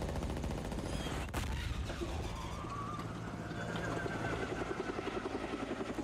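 Rapid gunfire crackles in Saints Row over the steady thrum of a helicopter, with bursts of shots early on and a fast, evenly spaced rattle toward the end.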